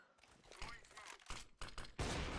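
Rapid bursts of CS:GO gunfire crackle in quick volleys, ending in a sustained loud burst, mixed with a player's voice.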